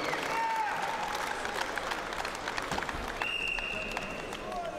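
An audience at a Greco-Roman wrestling championship claps steadily for the bout winner, dense applause filling the hall from start to end, with an announcer's amplified voice and a couple of tonal whistles or beeps over the crowd.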